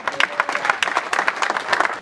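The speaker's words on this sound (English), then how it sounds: "I want a hand clap offering." Church congregation giving a hand clap offering during a sermon, a run of distinct rapid claps from a modest group, uneven and fairly close, fading in and out over two seconds.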